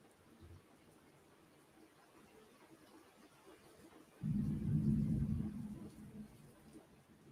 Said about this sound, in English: Woo! Lightning storm.